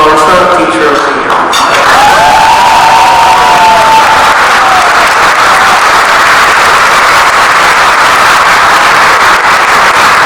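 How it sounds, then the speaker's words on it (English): Graduation ceremony audience applauding and cheering for an honored teacher, loud sustained clapping with shouts and crowd noise throughout, a voice briefly heard at the start. "Please give a round of applause to Dr. Clarsa, teacher of the year"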